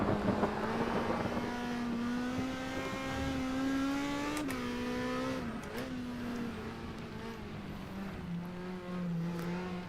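An Osella race car's engine drones steadily at the Nurburgring in the NetKar Pro racing sim, its tone climbing and dropping with gear changes, loud and continuous throughout.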